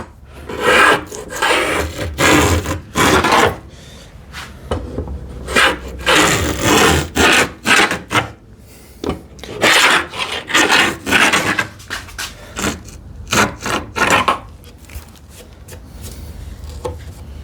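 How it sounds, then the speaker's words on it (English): Small router plane paring a wood panel for a TV unit, with repeated close rasping scrapes in rhythmic strokes of a second or so, broken by short pauses and fading to lighter passes near the end. "I will be using my small router plane"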